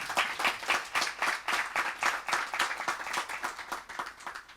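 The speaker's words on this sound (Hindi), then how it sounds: "तो इसके लिए उनके लिए तालियां जोर से बजनी चाहिए।" An audience claps at a spiritual gathering, a dense, steady round of applause from many hands filling the room without pause.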